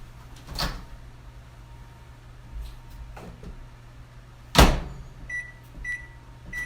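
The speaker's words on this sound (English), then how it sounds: "I'm gonna pop this in the microwave for, I don't know, 15-20 seconds, let the cheese melt" A microwave oven melting Swiss cheese hums low and steady, with a couple of sharp door or cupboard clunks along the way and a short series of high electronic beeps near the end.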